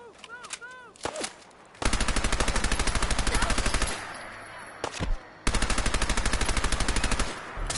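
Rapid automatic gunfire in the post-apocalyptic shooter game Fallout 4, loud and close, coming in two long sustained bursts separated by a short pause, with a few single shots and game effects before them.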